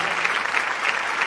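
An audience at a live jazz concert applauds a saxophonist with a dense, steady burst of clapping that fills the whole brief moment, fairly close and loud.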